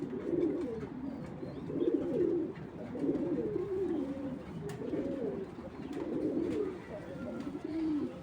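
Big-sized club racing pigeons coo steadily in repeated low throaty phrases, rising and falling in a regular rhythm, close and continuous without any talking.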